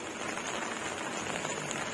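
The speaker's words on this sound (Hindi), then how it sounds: "तो देखिए यहाँ तेज बारिश कैसे हो रही है ये मैं आपको अपने होटल के बालकनी से" Heavy rain pouring steadily in Nainital, heard from a hotel balcony, a dense, even hiss of drops on surfaces with no voices.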